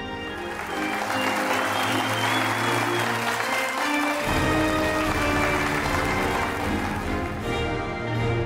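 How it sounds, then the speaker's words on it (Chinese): Wedding guests applaud the bride and groom at a Chinese wedding ceremony, a steady broad wash of clapping throughout with a low musical hum beneath, the music shifting partway through. "让我们再一次把掌声送给一对新人。"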